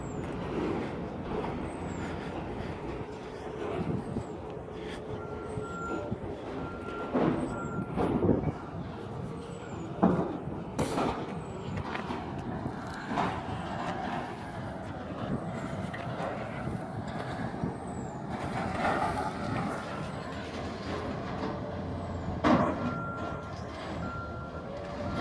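Heavy demolition machinery moves around inside a solid old building being torn down: a rumbling diesel engine with repeated reversing beeps, echoing through the structure, with occasional louder knocks and clanks.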